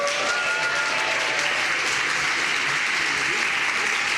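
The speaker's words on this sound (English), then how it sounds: "If we can give them a cheer just to let them know that it really is happening." A conference audience applauds with some cheering, a steady dense clapping that carries a few faint voices and whoops and stays level throughout.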